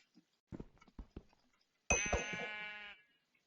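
Sheep bleating in the blocky survival game Hungry World, a few short soft sounds followed by one clear, drawn-out bleat of about a second, near and isolated against silence.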